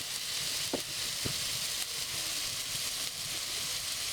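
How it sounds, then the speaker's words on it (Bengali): Spices sautéing in hot oil for a koi fish curry, a steady close sizzle running throughout with a few sharp scraping stirs of a spoon in the pan. "মশলাগুলো ভালোভাবে কষিয়ে নিতে হবে"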